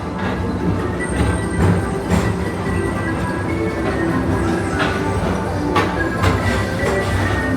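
Steady low rumble of a theme park ride train rolling along at Magic Kingdom, with a dense mechanical drone and occasional brief clanks, continuous and fairly loud throughout.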